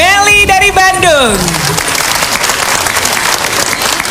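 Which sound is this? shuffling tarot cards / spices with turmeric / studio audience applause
studio audience applause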